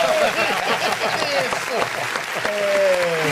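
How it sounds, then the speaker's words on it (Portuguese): Audience applause on a Brazilian talk show set, a steady bed of clapping heard under a voice and whoops or whistles rising over the crowd throughout. "Uma salva de palmas"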